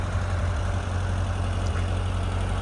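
A 1971 VW Westfalia bus with a 1600cc air-cooled engine idles steadily, a constant low hum and rumble close to the microphone with no talking over it.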